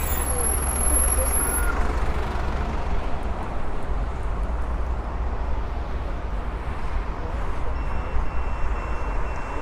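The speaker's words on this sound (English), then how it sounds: "Scoot on by this rubbish truck." A rubbish truck passed by a scooter on a city street in Wellington, New Zealand, giving a steady loud roar of engine and traffic noise with faint high reversing beeps.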